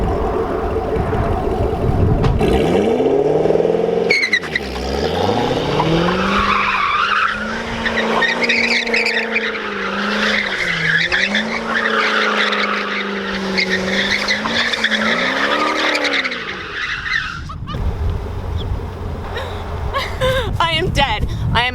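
A car doing donuts sends out a long, loud, wavering tire squeal that rises and falls as it skids in circles, with the engine roaring underneath, nearly continuous for about twenty seconds.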